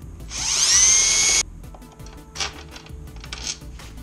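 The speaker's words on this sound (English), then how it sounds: "Watch out we don't drill through our wiring here." A power drill whines at high speed for about a second while drilling a motorcycle handlebar on a Honda Grom, then cuts off, followed by a few brief scraping and rattling noises.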